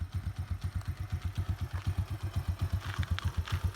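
Nearby cheap used motorbike engine ticking over roughly, its low chugging pulses occasionally hiccuping and faltering, with some mechanical clatter on top.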